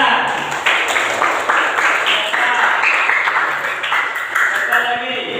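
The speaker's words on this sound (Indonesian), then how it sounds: "Oh ya, oke, tepuk tangan." A classroom audience claps together in a steady, dense burst of applause that holds for several seconds, with voices mixed in underneath.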